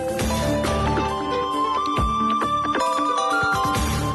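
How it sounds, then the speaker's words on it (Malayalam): A mobile phone ringtone plays from an office cabin as a continuous, fairly loud electronic melody of sustained and shifting tones that fills the whole stretch without any voices. "തന്റെ ക്യാബിനിൽ നിന്നാണല്ലോ ആ ബെല്ല് കേൾക്കുന്നത്"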